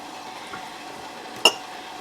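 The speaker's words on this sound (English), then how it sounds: "I'll just pour it in the next jar." Water poured into a canning jar of beans makes a thin, steady trickle, interrupted by one sharp glassy clink partway through.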